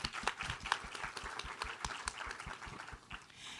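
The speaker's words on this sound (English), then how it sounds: "Let's give her a round of applause." A live audience claps for a speaker at a panel on independent music and entrepreneurship, a scattered and moderately loud round of applause that thins out toward the end.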